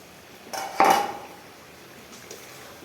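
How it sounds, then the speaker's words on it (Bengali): A metal lid comes off a pan of okra tok with one brief, close metallic clatter, then the kitchen goes quiet. "আমি ঢাকনা খুলে নিলাম"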